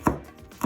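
Garlic being chopped with a knife on a cutting board for salsa, two crisp close knife strikes about half a second apart, no talk.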